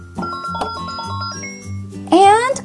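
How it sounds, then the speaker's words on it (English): The bell on a toy ice cream playset chimes with a bright electronic ding-dong melody, a few tones ringing out over a low hum before a child-like voice sings at the end. "Let's press the bell"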